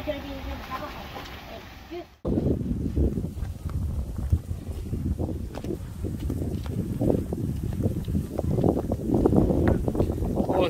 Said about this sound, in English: Oh, it's a bit windy.